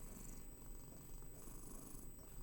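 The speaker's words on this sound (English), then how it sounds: "here's my cat Trixie" Pet cat Trixie purrs close up, a steady low rumbling throb that continues evenly throughout, quiet and without any talking.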